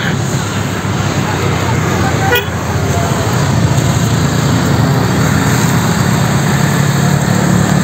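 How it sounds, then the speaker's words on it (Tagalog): Motorcycle ridden along a road near Montalban River, a steady loud engine drone with wind rush throughout and a brief horn-like tone partway through. "nakahiram ako ng motor sa pamangking ko"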